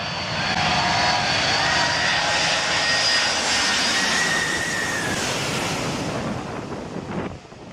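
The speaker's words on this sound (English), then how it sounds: "Everyone was excited to see the plane take off" An airplane takes off over Maho Beach in St. Martin, its engines roaring loud and close with strong wind blast, then fading slightly toward the end.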